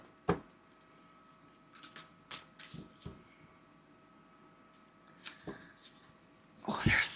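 Soft papery riffling of thick tarot cards in a few short bursts, quiet and close, with a louder flurry at the end.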